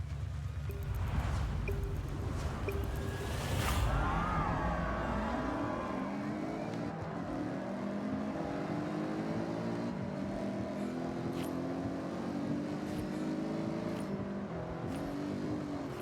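Forza Horizon race car in wet, rainy conditions: a continuous engine whine sweeping up and down through gear changes, with tyre hiss and spray noise underneath, steady and fairly loud throughout.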